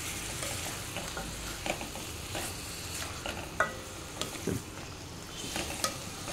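Chicken fries in a pan and is stirred. A steady close sizzle runs throughout, broken by scraping stirs and light clinks of a utensil against the pan, with no voices.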